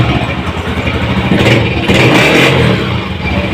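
A 1985 Honda CG 125 motorcycle engine revving nearby, a loud gritty single-cylinder roar that swells in a couple of quick throttle blips before settling back.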